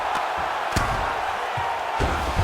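A crowd roaring in the UFC 5 fighting video game, a loud continuous arena cheer with a few thuds and bumps underneath.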